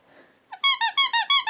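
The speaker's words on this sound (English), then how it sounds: "Squeaky reindeer." Reindeer-shaped squeaky dog toy squeezed in a quick run of five or six loud, close, high-pitched squeaks after a faint rustle.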